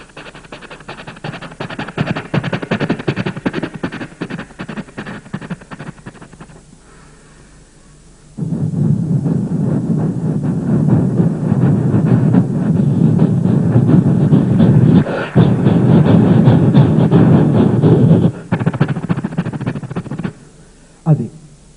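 A voice imitates a train crossing the Godavari barrage, which has no iron pillars. A rumbling vocal train sound runs through most of the clip, grows louder and denser midway, then breaks off briefly near the end.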